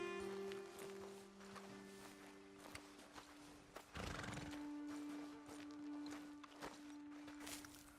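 Horses in the video game Red Dead Redemption 2 whinny and neigh loudly over clip-clopping hooves and footsteps, with sustained game music underneath.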